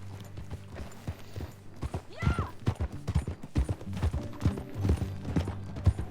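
In the video game Red Dead Redemption 2, horses clop along as riders set off. The uneven hoofbeats sound close with some gear rattle, and brief talk is heard.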